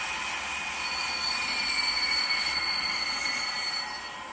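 An ESU LokSound V5 decoder plays a BR52 condenser steam locomotive sound, a steady, continuous rushing noise with high whining tones that holds at an even level throughout, with no voices.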